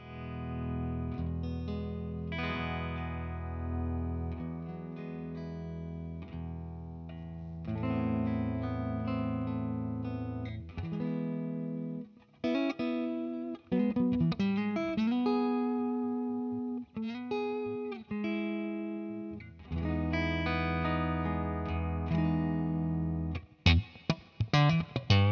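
Electric guitar played through a BOSS Katana amp, starting on the clean channel and moving through its built-in effects such as chorus, distortion and reverb. Chords and picked phrases ring out loud and continuous, with short pauses between passages and no talking.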